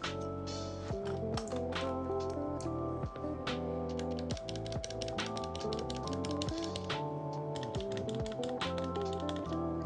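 Keys clacking on an NK65 Entry Edition keyboard with Tealio V2 switches, the L key struck again and again: rapid, dense, close-up presses and returns with a bright, crisp tone and no talking.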